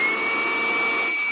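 Steady whir of a vacuum cleaner working in the rear of a 2022 Isuzu Mu-X with an RZ4E engine, close and continuous with a thin high whine and no talk.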